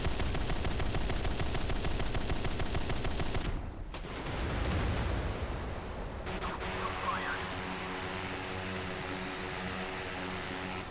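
Helicopter machine guns and missiles in the Modern Warships naval video game, a dense rapid burst of gunfire that cuts off abruptly, followed by a lower rumbling stretch of weapon noise, loud with no talk.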